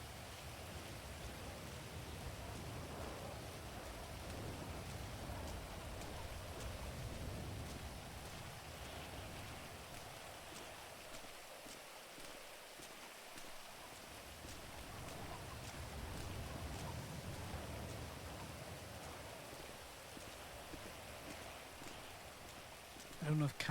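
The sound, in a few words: heavy rain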